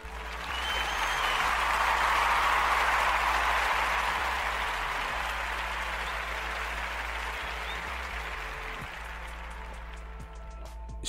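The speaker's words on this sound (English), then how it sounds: "let's give her some applause" A crowd applauds steadily at a hip-hop reaction show, the clapping swelling early then slowly thinning out over several seconds, dense and fairly loud with no talking.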